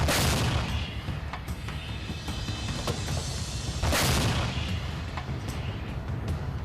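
Artillery fire from Pakistani-made high-explosive shells in Ukraine, loud, heavy booming blasts over a dense rumbling roar, with a couple of stronger reports standing out.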